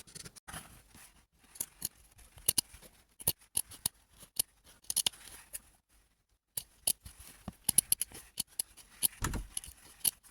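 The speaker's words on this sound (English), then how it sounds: "so now it's just time to cut it out." Scissors snip through fabric while a model horse saddle pad is cut out, giving irregular crisp close-up cuts and clipped strokes separated by short pauses, with a silent stretch midway.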